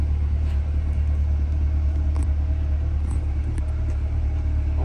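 A 2020 Corvette C8 2LT convertible with the top up sits idling, its engine giving a steady, close low rumble throughout with no talk.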